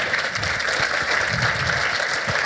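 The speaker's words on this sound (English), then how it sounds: "Round of applause for IPSA." Crowd applause at a Crossmedia Toronto showcase for a presenter named IPSA, a steady dense clapping wash with a few low thumps, filling the room without pause.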